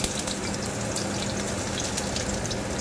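Onions sauté in a hot pan with a continuous crackling sizzle, dense and close, with small spitting pops scattered through it.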